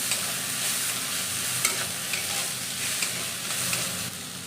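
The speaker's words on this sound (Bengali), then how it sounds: "এটাকে ভাজা করে নিচ্ছি।" Onions and plenty of green chillies fry in a pan, a steady close sizzle with occasional scraping stirs and no voices.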